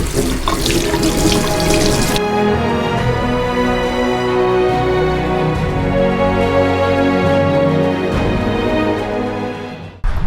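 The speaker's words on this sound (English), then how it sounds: "let's go ahead and wash our hands" Water runs steadily from a tap into a sink for handwashing at an outdoor campsite stop with hot and cold water, loud and close, with a brief splashy burst at the start and a continuous rushing stream afterward.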